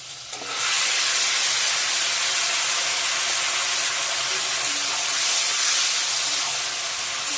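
Chopped ginger, tomato and marinated chicken hit a hot pan with a loud, steady sizzle that rises suddenly and holds without a break.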